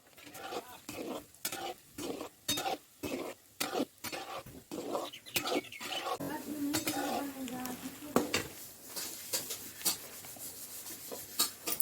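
A spoon clinks and scrapes against a pan while gulab jamun are stirred over a low flame, with rhythmic close-up knocks through the first half, then softer scraping and faint sizzling.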